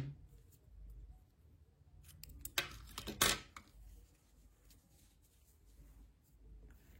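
Scissors snipping yarn during crochet work: one brief, quiet cut with a short crisp rustle in the middle of an otherwise near-silent stretch.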